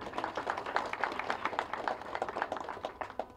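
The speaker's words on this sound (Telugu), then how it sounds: "ప్లీజ్ క్లాప్స్ డైరెక్టర్ గారికి." An audience claps for the director at a movie trailer launch event, a brief burst of scattered, moderately loud applause with no speech.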